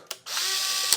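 A Polaroid SX-70 instant camera fires its shutter from a plugged-in release cable: a sharp click, then a steady mechanical whir of motor and gears for about two-thirds of a second, ending in a final clack, close up and alone.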